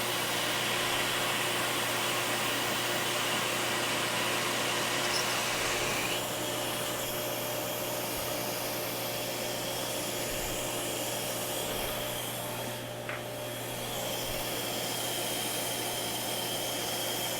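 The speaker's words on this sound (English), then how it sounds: "Looks like the drill is drilling nicely centered" A drill bores into metal on a CNC Bridgeport mill, a steady close-up machine whir and grinding roar running continuously under a constant motor hum.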